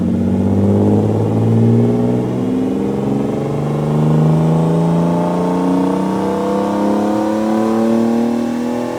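A turbocharged BMW E36 323 engine revs hard on a dyno, its rising, harmonic-rich roar climbing steadily through the revs and holding loud and close for the whole stretch, with no talk over it.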